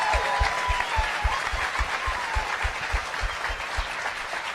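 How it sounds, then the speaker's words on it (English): A crowd at a CrossFit Open announcement event applauds steadily throughout, a dense wash of many hands clapping without pause. "Let's give him a round of applause."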